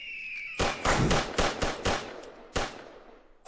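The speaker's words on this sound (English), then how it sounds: "Shooting them both at the same time is really tricky." Rapid cracks of gunfire from the Wild West VR shooting game Quick Draw on the HTC Vive, about seven sharp shots in a quick uneven burst, then a pause and one more shot, each loud with a short decaying tail.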